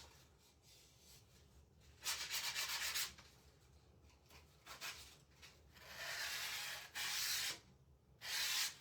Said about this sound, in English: So I always give it a good sand.